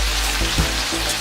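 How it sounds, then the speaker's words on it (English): Ingredients for a fish stew fry in a pot with a steady, close sizzle and a few soft stirring knocks over a brief moment. "So it's gonna be frying at least 3 minutes or 5 minutes"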